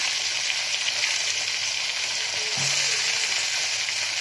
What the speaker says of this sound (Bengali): এবার আমি এতে পালংগুলো দিয়ে দিচ্ছি। এবার আমি এতে দিয়ে দিচ্ছি গোটা বেগুন,